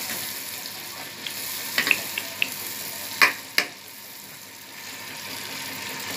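Mustard seeds and cumin sizzle in melted butter for a tempering over sarson ka saag, a steady close hiss broken by a few sharp pops and crackles, with no one talking.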